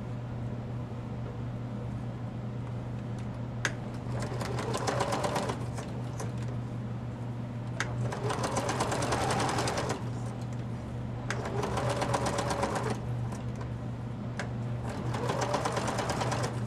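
A sewing machine stitches a zigzag seam on a paper bag in four bursts of rapid, even clatter, with quiet pauses between them and a steady low hum underneath.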